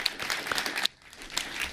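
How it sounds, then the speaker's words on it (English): Applause from a small group during a live tech product announcement, steady clapping with a brief dip midway. "I'm going to applaud that."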